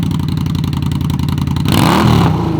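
Indian Scout motorcycle fitted with a Shorty GP style slip-on exhaust, revving close and loud; a rapid rhythmic idle burble gives way to a surging, rising rev near the end.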